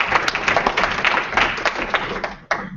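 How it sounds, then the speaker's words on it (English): A seminar audience applauds speaker Becky Hurwitz with a steady wash of many hands clapping close by, sustained for nearly three seconds before briefly dipping and picking back up. "can we give Becky a round of applause"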